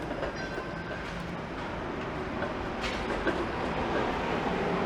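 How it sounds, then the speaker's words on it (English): A Toronto Queen Street streetcar bound for Dufferin rolls past along a city street in October, a steady rumble of wheels on rail with faint clatter, fairly close and continuous against street noise, with no talking. "It's a Queen streetcar going to Dufferin."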